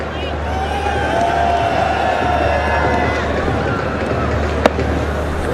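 Cricket stadium crowd at a PSL match in 2017, a dense continuous roar of cheering and babble from a large crowd, loud and sustained, with one brief sharp crack near the end.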